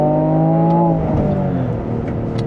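A 2026 Toyota GR Corolla hot hatchback revs with its augmented, amplified exhaust note during a downshift to second gear; a loud, steady engine drone sweeps upward then falls away, close and continuous.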